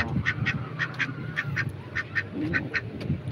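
Ducks quack in a steady, fairly rhythmic series of short calls at close range, with a low murmur of background noise underneath.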